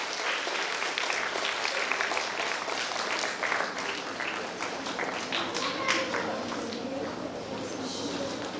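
The audience applauds the chief guest at a school junior section jubilee event linked to Kolkata Fashion Week. Sustained, dense crowd clapping continues without a break, slightly distant, with voices mixed in.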